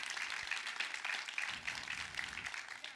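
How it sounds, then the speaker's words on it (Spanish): A church congregation breaks into applause, a dense, steady wash of many hands clapping at once, moderately distant and unbroken for several seconds, with faint low rumble beneath. "Denle un fuerte aplauso al Rey de Reyes"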